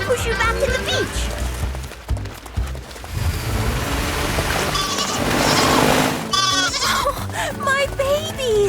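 Cartoon goats bleat repeatedly while running in a busy animated scene, their cries mixed with music, sound effects and voices talking.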